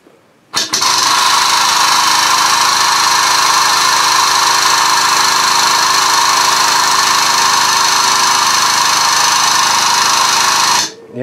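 An air-powered 30-ton press conversion runs with a steady, loud pneumatic hiss and mechanical hum that starts abruptly, holds for about ten seconds, then stops.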